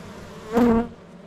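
Honeybees buzz around a beehive frame, with one bee's hum swelling briefly close by over a quiet low background before fading.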